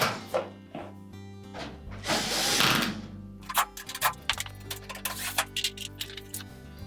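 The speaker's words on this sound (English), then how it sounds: "And then go ahead and tighten all the screws securely." Screws being tightened on a Whirlpool range during a light socket replacement: irregular close clicks, scrapes and ticking metallic taps in short bursts, with one longer rasping stretch, fairly quiet and without voices.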